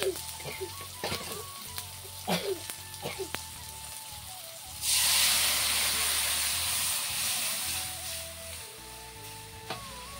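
Dal gets tempered in hot oil in a rural home kitchen: after a few seconds of clatter and a voice, a loud sudden sizzling hiss erupts, then slowly fades while small knocks continue.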